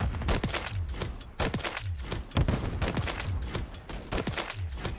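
Rapid marksman rifle shots from Modern Warfare 3 gameplay, a loud run of sharp cracks in quick bursts with brief pauses between volleys, close and dominant with no voices.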